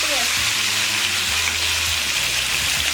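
Ingredients for egg and chicken curry sauté on a stovetop, a loud, dense, steady sizzle close by, with a little stirring underneath.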